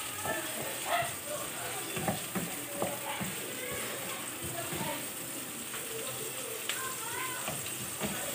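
Onions frying in a pan for chicken curry: a steady, fairly close sizzle with occasional clinks and scrapes of stirring throughout, and faint background voices.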